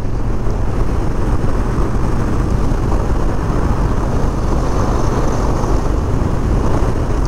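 A Harley-Davidson Low Rider S with a 114 engine cruises along, a constant loud low drone of engine and wind rush, even and unbroken throughout.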